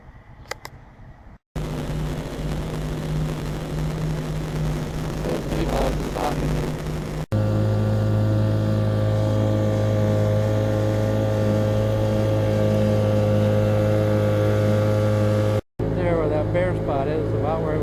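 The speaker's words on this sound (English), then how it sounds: "Once I get out in the river, I'll see if I can get this motor started" Outboard motor on a small aluminum john boat on a river: a steady engine drone with a strong low hum that cuts in abruptly and keeps running loudly, broken by short gaps and a few clicks.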